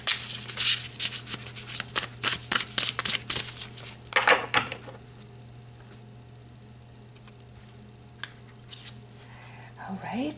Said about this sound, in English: Let's pull a card for general energies.